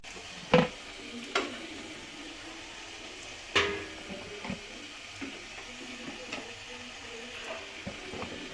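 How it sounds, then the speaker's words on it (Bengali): Flour-and-sugar pitha fry in hot oil, giving a soft, steady sizzle. A few sharp clinks and scrapes of a utensil break in now and then. The sound is quiet and close, with no talking. "সবগুলো এভাবে ভাজবো আর শিরার মধ্যে দিয়ে তুলে নেব।"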